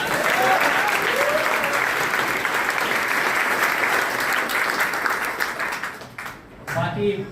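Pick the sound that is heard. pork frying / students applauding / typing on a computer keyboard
students applauding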